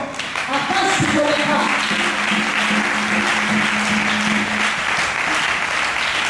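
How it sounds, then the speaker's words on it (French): A church congregation bursts into sustained, loud applause that fills the hall for several seconds, with voices cheering and calling out beneath the clapping. "Est-ce que je peux avec vous acclamer le Seigneur?"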